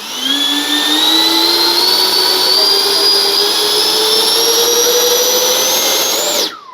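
Freewing 80mm A-10 Thunderbolt RC jet's electric ducted fan held at three-quarter throttle, a loud, steady high-pitched whine with rising tone throughout, close up, cutting off sharply at the end.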